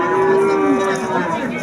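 A cow at a livestock market lets out a single loud, close moo, a sustained low drawn-out bellow that wavers slightly in pitch before trailing off.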